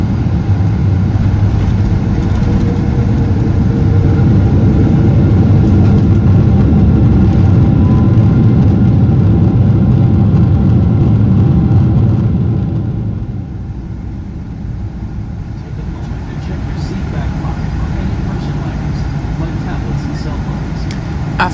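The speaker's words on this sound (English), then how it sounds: "please enjoy a very smooth landing onto London Heathrow's runway 27 right" Boeing 777 touching down on London Heathrow runway 27 right, a loud, steady cabin roar of engines and rushing air that eases after touchdown into a lower, braking rumble.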